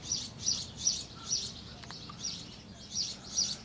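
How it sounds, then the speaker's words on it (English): Small birds chirp in repeated bright bursts, roughly twice a second, fairly faint over a low outdoor rumble near a prairie dog area in Arizona, no one speaking. "Now the birds are acting up behind me."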